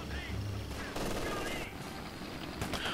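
Machine gun fire in the World War II strategy game Company of Heroes 2, a dense, steady rattle of automatic gunfire running the full length at constant loudness, with other battle noise mixed in.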